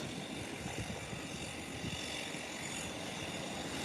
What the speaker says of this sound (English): While the Ambria 120 is taxiing out of its parking gate.